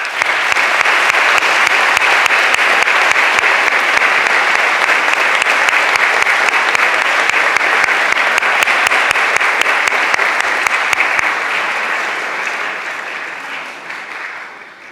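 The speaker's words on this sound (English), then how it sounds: "sincere round of applause." A school assembly audience at a spring athletic event gives sustained, loud applause, a dense wash of many hands clapping steadily before tapering off toward the end.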